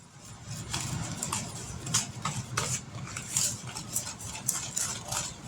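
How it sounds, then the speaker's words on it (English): Metal whisk beating a cup of evaporated milk in a bowl, a busy run of quick light clinks and scrapes against the bowl, steady and close, with a low rumble underneath and no talking. "We're going to whisk this up."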